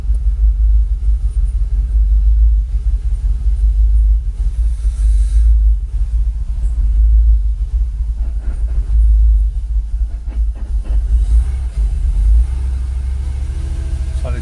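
A Jaguar XKR engine idles at about 600 RPM with a steady low rumble droning on at a constant pitch, loud and unbroken, with no voices over it.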